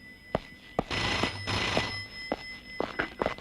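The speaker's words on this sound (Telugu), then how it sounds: "ఈ ఫోన్ చేసింది వాడే" A red landline telephone in a Telugu film comedy scene rings with bright electronic bell bursts, repeated several times in quick succession, fairly close and clear with no talk over it.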